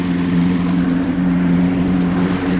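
An outboard motor runs steadily on a boat out on Lake Wateree, South Carolina, its close, constant drone holding an even pitch with wind and water noise beneath it.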